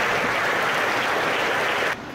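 A church congregation gives applause at a Vietnamese priest's 49th ordination anniversary Mass, a dense, even clatter of many hands that holds steady for about two seconds and then drops off abruptly.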